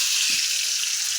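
Paneer coated with turmeric and salt frying in oil, a steady bright crackling sizzle, close and even throughout the brief moment.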